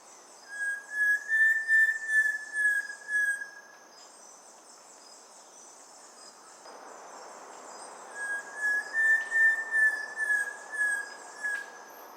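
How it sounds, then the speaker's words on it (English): Streak-chested antpitta song, two short series of plaintive whistled whoop notes each rising and falling in even rhythm, fairly faint over a constant high insect hum in forest. "Its song is described as a short series of plaintive whistled notes, sometimes described as a whoop,"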